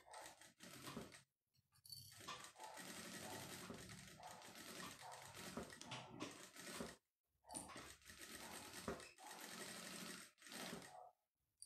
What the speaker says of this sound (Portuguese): vou bater uma costurinha bem aqui na beiradinha para dar acabamento nesse nosso viés